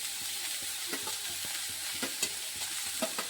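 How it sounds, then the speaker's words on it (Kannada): Green chillies, tomato and coconut frying in a pan, a steady close sizzle with light stirring scrapes ticking through it, alone without any voices. "ಇದನ್ನು ಕೂಡ ಹಾಕೊಂಡು ಚೆನ್ನಾಗಿ ಫ್ರೈ ಮಾಡ್ತೀನಿ"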